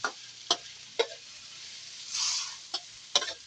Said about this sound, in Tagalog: mag-igisa tayo. Bawang, sibuyas, kamates, tsaka konting luya.